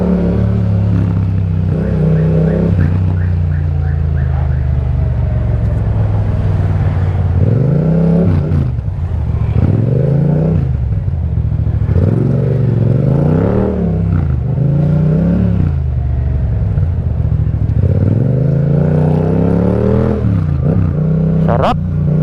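A Yamaha MT-07 motorcycle fitted with an Akrapovic exhaust revs loudly and close by, its engine note climbing and falling in repeated throttle blips over a steady low idle rumble.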